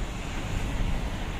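Ocean surf on a seaside boulevard in Aurora province rolls in as a constant broadband roar, heavy with wind buffeting the microphone.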